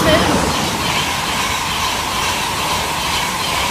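A train passes straight through Arlesey station on the East Coast Main Line, a loud, close, steady rushing rumble with rail noise that carries on throughout.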